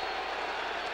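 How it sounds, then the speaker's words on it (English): A 1987 NFL football stadium crowd, St. Louis Cardinals hosting the San Diego Chargers, roars in a dense, steady wash of cheering and applause on a fourth down, distant and sustained without any talk over it. "Now the crowd gets into it."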